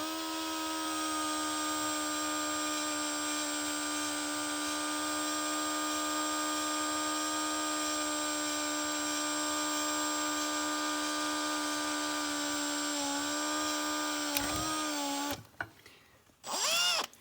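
A drill bit boring a hole through a metal plate for an RC car skid weight, a steady, loud whine held for about fifteen seconds before it winds down and stops, followed by a couple of brief handling bursts.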